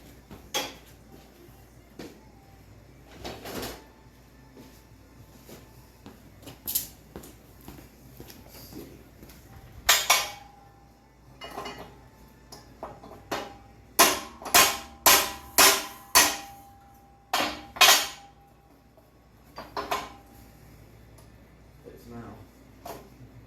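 A hammer strikes the metal front hub of a Honda ATC 110 three-wheeler in sharp, irregular clanks, some isolated and others in a quick run of several blows, close and loud.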